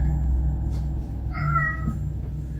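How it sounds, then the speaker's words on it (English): A house cat lets out a single clear meow midway, a short tonal call rising over a quiet indoor room hum, close to the microphone. "My cat just keeps walking around meowing"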